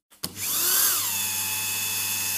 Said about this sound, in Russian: Маленькая дрель просто